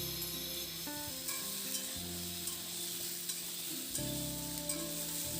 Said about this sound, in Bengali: তো আলু আর ঝিঙেটা খুব ভালো মতো করে ভেজে নিয়েছি